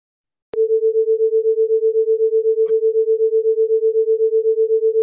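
Two nearly identical pure tones sound together, forming one loud steady note that swells and dips in fast, regular beats after a sharp click at the start, with a faint tap partway through.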